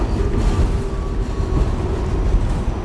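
A New York City subway train gives a loud, steady rumble with continuous low-frequency roar and faint wheel noise throughout.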